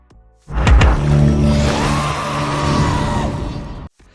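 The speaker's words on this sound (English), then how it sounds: "We open up and there's a beast screaming" A beast from an episode of The Witcher: Blood Origin lets out a loud, drawn-out bellowing scream that begins abruptly, holds for about three seconds with a rough, roaring edge, and then cuts off sharply.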